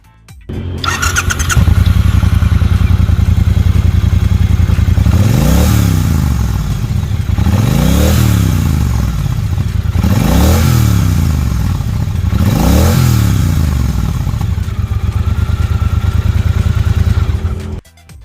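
A 2017 Triumph Bobber 1200 motorcycle with 8,000 km fires up, settles into a loud, close, throbbing idle, then is revved four times in evenly spaced rising and falling surges before shutting off.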